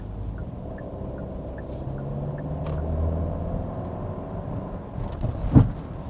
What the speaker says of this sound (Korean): 제가 방금 전에 추월 가속한 거 보셨나요?